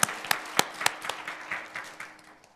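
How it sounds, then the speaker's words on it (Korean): A church congregation at a Christmas Day service claps together in a short burst of distinct, rhythmic claps that gradually soften and blur into scattered clapping. "주님께 영광의 박수 올려드립니다."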